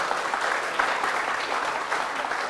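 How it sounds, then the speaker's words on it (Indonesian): An audience applauds at an open mic event in Ambon, a dense, steady patter of many hands clapping throughout at a moderate distance, with no speech over it. "Tepuk tangan dulu dah sekali lagi buat TVRI."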